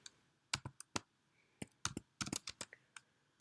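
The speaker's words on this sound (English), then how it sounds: "And then, of course, we type in that formula." Keys typing a formula on a computer keyboard: quiet, close, irregular clicks coming in short clusters, with some keystrokes sharper than others.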